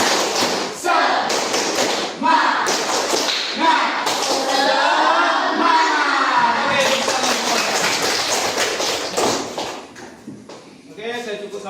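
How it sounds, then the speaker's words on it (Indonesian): A group performs tepuk semangat, a rhythmic spirited clapping routine, with sharp bursts of claps in patterned sequence between stretches of chanted voices. "supaya semuanya lebih semangat, kita kembali ke tepuk semangat"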